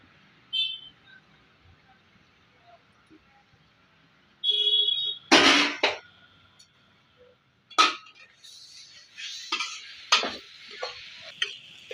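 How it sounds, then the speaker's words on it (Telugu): Grated raw mango tipped into a pan while making pulihora, with a few sharp clinks and scrapes of a utensil against the pan, then stirring and faint sizzling in a quiet kitchen. "ఇప్పుడు మనం తురిమి పెట్టుకున్న మామిడికాయని వేసుకోవాలి."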